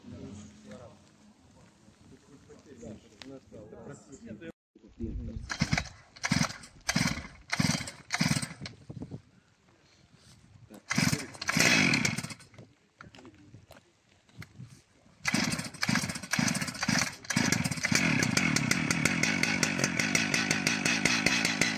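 A chainsaw cuts an ash log into slabs, revving in repeated bursts and then settling into a long sustained cut, with quieter pauses between.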